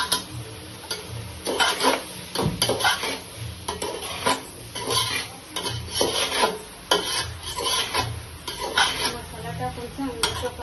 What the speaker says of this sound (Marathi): मसाला टाकून चांगल्या प्रकारे हलवून घ्यायचा